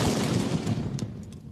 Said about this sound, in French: 21 coups de canon annonciateurs de son investiture